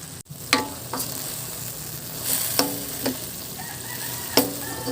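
Tofu and bean sprouts stir-fried in a pan, with a steady close sizzle and repeated scraping clacks of a spatula stirring the ingredients at an uneven rhythm.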